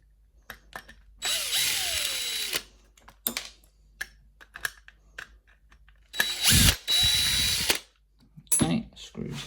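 A power screwdriver backs screws out of the case of a P89 night latch in two long, loud whirring bursts, with scattered clicks and handling knocks in between.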